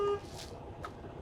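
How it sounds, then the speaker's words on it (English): A short electric truck horn honk at the start, quickly cut off, followed by a faint second tone and quiet cab noise. "This is the electric horn"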